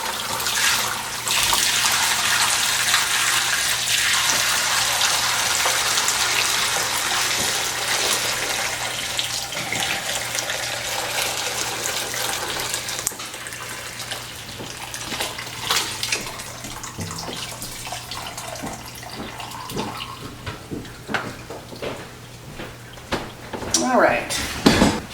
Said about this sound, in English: I'm just going to start pouring this through, kind of slowly at first, so it doesn't knock my strainer into the bowl